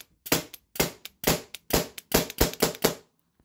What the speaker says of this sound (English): So I'm just going to dry fire this right here.